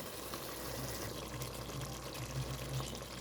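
Tamarind juice pours into a fish curry in a pan, a soft continuous liquid splash and trickle lasting a few seconds, fairly quiet and close with no voices.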